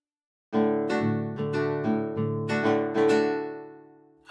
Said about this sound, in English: This is what the strumming sounds like.